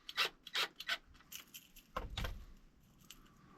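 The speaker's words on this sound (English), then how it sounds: "So we'll put that nut on there and just snug it up." A metal nut being threaded and snugged onto a bolt while building a live bait float, a run of short metallic clinks and rasping scrapes, close and fairly quiet, followed by a brief duller knock, with no speech.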